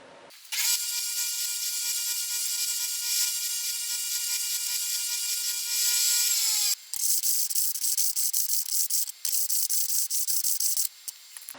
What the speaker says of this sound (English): This is 80 grit. I'm not trying to make them skinnier, I'm just trying to put a texture on them.